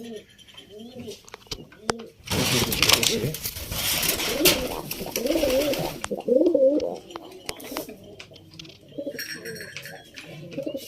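Pigeons in a keeper's loft give soft, repeated coos close by, alongside a burst of fluttering or rustling, while someone speaks over them at times.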